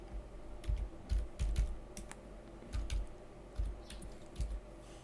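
A command is typed on a computer keyboard in short bursts, soft nearby key taps grouped in small clusters with gaps between them, no voice.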